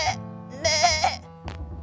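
A human voice imitating a goat's bleat in a children's story about a goat visiting a monkey's banana garden: a few wavering, nasal bleats, close and clear, followed by a brief sharp sound.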